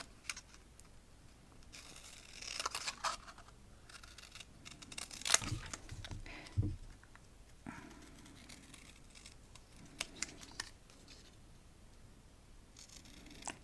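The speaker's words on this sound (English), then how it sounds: "So just quickly snip them out after you've stamped them." Craft snips cut out small stamped paper pieces at close range, giving a few sharp snips and papery rustles between quiet pauses.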